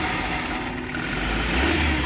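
A Suzuki Futura with fuel injection, previously lacking power, runs its engine and is revved, a close, dense rumble that swells louder toward the end.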